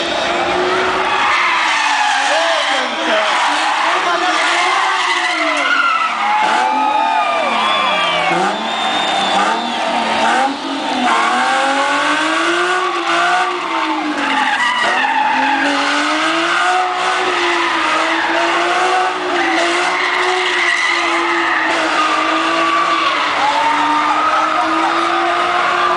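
The Brazilian drift champion's car at the Mega Car 2011 show in Manaus skids for a long stretch, its tires squealing loudly and without a break over the roaring engine.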